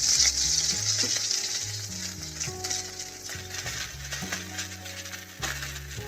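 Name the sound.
ridge gourd frying with nigella seeds in a wok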